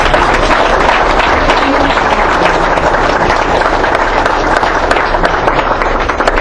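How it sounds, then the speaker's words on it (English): An audience at a ribbon-cutting ceremony in Yuba City applauds Congressman Berger, a loud, dense, steady wash of clapping throughout with no pauses. "So please, let's give him a round of applause"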